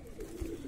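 A pigeon coos on a rooftop, a low soft murmuring call that rolls on steadily through the short moment, fairly close.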